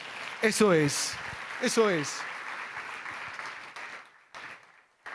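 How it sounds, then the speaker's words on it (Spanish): Church audience at a Spanish-language sermon applauds, a moderate wash of clapping under a speaking voice that cuts in briefly at the start, settling into steadier applause before thinning out. "denle un aplauso al Señor"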